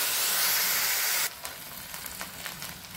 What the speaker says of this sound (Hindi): इसको हम फ्राई कर लेते हैं ब्राउन कलर होने तक।